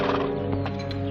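A horse whinnies and clops nearby, a short neigh mixed with hoof sounds and harness movement, heard alone without speech.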